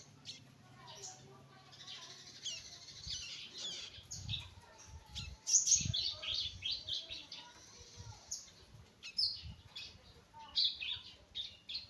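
Bar-winged prinia chicks chirp in thin, high, repeated tweets and squeaks, close and faint at first then in livelier bursts, with quiet talk and handling noises underneath.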